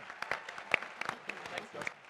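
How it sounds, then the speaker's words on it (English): Audience at the IFA NextGen FranShark franchise pitch competition gives a presenter scattered, fairly faint applause, individual claps uneven and loosely overlapping, with a hint of voices mixed in. "let's give Jai a great round of applause"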